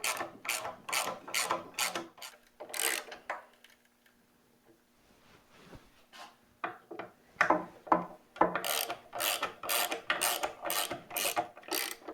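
A ratchet tightening fasteners on a wooden footstool top, rapid rhythmic clicking strokes in bursts, pausing mid-way for quieter handling noises before resuming steady close clicking.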